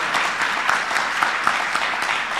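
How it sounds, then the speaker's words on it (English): Steady applause from the audience at a general assembly meeting in Nairobi, continuous clapping with occasional louder claps, moderately loud and without talk. "Please appreciate our rapporteur and leader, Honorable Steve Kent, with a round of applause."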